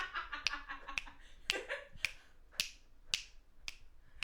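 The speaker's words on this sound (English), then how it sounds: "This is the new sound effect. It's just me snapping my fingers with my whole body." A steady run of sharp finger snaps, about eight of them spaced roughly half a second apart, crisp and close, with no talking over them.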